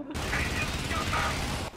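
Helldivers gunfire roars as a dense, continuous burst of rapid shots for under two seconds, loud and close, then cuts off sharply.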